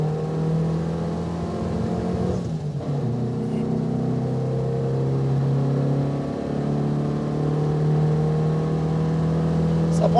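A Renault Dauphine 1093 engine revs hard from inside the car, a loud, steady buzzing drone that climbs in pitch, briefly dips and then pulls up again under acceleration.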